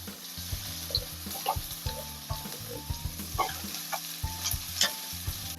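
Chopped onion sizzles in hot white oil in a wok, a steady close frying hiss broken by repeated scraping stirs and clanks of a spatula against the pan.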